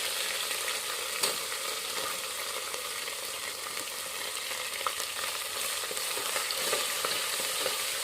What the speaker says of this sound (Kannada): ಉಳ್ಳಾಗಡ್ಡಿ ಒಂದು ಸ್ವಲ್ಪ ಕೆಂಪಗಾಗಿ ಫ್ರೈ ಮಾಡ್ಕೊತೀನಿ ರೀ